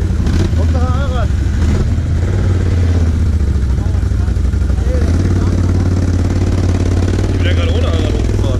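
A Can-Am Renegade and a Yamaha Raptor ATV climb a slope at Funpark Meppen, their engines droning and revving steadily in the background while people talk over them.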